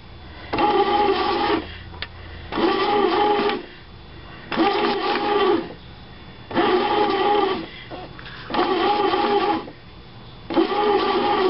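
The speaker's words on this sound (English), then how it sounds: "I'm letting the bread machine punch the air out of it." A Hamilton Beach Home Baker bread machine kneads and punches down risen dough, its motor whirring in regular bursts of about a second each, separated by short pauses, repeating steadily throughout.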